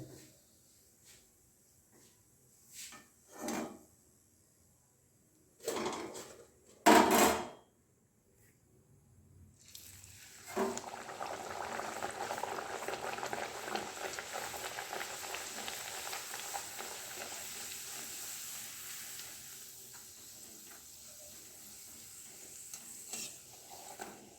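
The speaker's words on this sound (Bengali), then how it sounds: "দেখো এরকম করে সবগুলো ভেজে নিচ্ছি।" Kochuri deep-frying in hot oil, a broad steady bubbling sizzle that swells in after a few sharp clatters and knocks, holding loud for several seconds before easing slightly, no talk over it.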